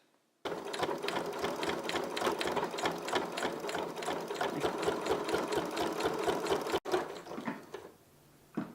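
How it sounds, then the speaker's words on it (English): A sewing machine runs steadily and close by, stitching along the edge of fabric for a tortilla warmer. Its rapid mechanical chatter is loud and even for about six seconds, then stops, leaving a few faint handling sounds. "we're going to sew right along the edge here"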